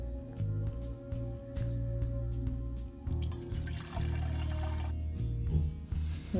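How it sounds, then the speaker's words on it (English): Water pours into a cooking pot of chickpeas in a steady, close splashing stream with small clinks and dripping, quiet overall and uninterrupted by talk. "After 5 minutes, add water."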